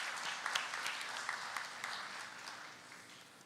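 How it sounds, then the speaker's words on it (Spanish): An audience at a human rights forum applauds Gilda Rivera, a soft, even patter of many hands clapping at a distance that slowly thins out toward the end. "Un aplauso para Gilda también."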